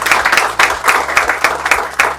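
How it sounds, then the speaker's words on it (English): Brief, close round of clapping at an association's annual general meeting, a few hands beating in an uneven rhythm over a low hum for about two seconds. "Give a round of applause for him."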